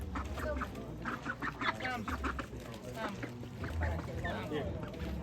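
Ducks quack and chatter close by in a house, with repeated nasal calls mixed with people talking throughout.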